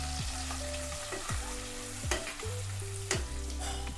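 Egg curry masala with spice powders frying in a pan, a steady sizzle broken by repeated scraping stirs, close and moderately loud with no talking.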